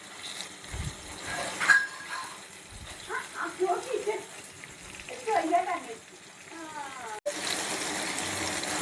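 Pan-fried chicken, one side turned, crackles and sputters in hot oil at close range, with bursts of sizzling that rise and fall; a voice speaks over the frying.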